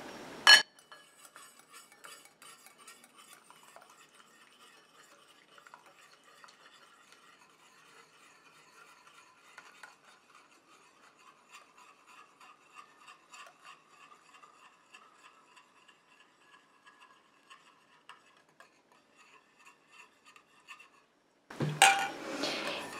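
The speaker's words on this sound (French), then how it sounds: "Et je continue à mélanger comme ça jusqu'à ce que mon émulsion refroidisse et épaississe." Oily and watery phases of a foot balm are stirred into an emulsion with a utensil in a bowl, making soft, continuous scraping with faint clinks and a louder knock at the start and end.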